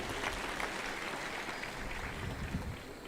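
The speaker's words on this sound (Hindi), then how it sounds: "तालियां बजा के उनका अभिनंदन कीजिए।" Steady, distant-sounding audience applause at a large Parshuram Jayanti gathering in Bhopal, a continuous wash of clapping from a crowd.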